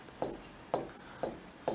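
Chalk or marker strokes from a teacher writing words on a classroom board during a Hindi grammar lesson: four short, evenly spaced scraping strokes, close and fairly quiet, with no talk over them.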